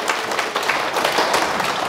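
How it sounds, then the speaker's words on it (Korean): An audience claps at a Q&A talk event, a steady dense wash of applause filling the whole moment at an even, fairly loud level. "너무 좋은 질문인데 큰 박수 부탁드립니다."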